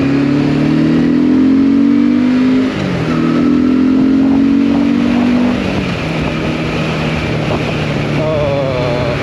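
An MBP C1002V motorcycle engine idles, then revs up and drops back in a couple of blips, loud and close, with wind noise underneath.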